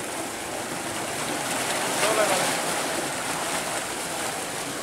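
Water gushes steadily from the 5-inch delivery pipe of a solar tube well driven by a 10 hp motor and 36 panels of 150 watts, a close, loud, continuous rushing hiss.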